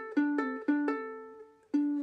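Plucked ukulele notes in a fingerpicked riff, five clear picked attacks spaced unevenly with ringing sustain between them, close and alone with no talking.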